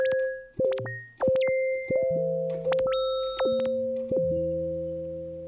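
Randomly generated MIDI harmonies from a harmonizer script play as a sequence of synthetic sine-like tones, stepping between high and low pitches in short overlapping notes, clean and alone.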